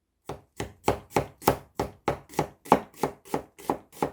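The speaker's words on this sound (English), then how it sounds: "Slice the onion." A knife slices an onion on a cutting board, striking fourteen times in a steady, evenly spaced rhythm, close and crisp with no voices.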